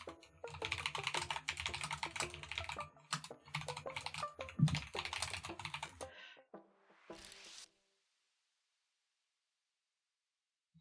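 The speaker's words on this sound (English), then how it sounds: "Keyboard sounds divine." Rapid close computer keyboard typing, a dense run of crisp clicks and key thuds for several seconds that thins out and stops, then silence.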